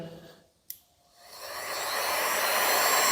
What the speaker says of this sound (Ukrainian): беремо звичайний будівельний фен